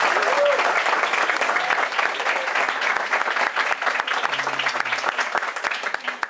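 An audience claps in welcome for two visiting directors of a nations transformation school program, a steady dense wash of applause lasting the whole stretch, with faint murmuring voices under it.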